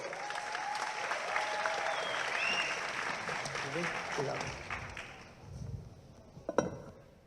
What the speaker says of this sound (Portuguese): Eu quero uma salva de palmas